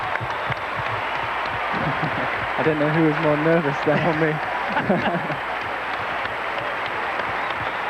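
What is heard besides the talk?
stadium crowd cheering and clapping for ice dancers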